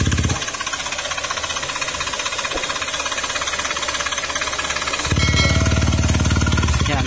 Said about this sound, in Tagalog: para ipa-repair yung ganitong tunog sa motor niya